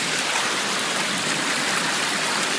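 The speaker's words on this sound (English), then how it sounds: "we'll see how hard the water flow is" A glacial meltwater stream by Mendenhall Glacier in Alaska's Tongass National Forest rushes steadily, a dense, close, continuous wash of flowing water with no voices.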